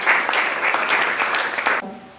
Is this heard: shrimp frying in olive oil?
no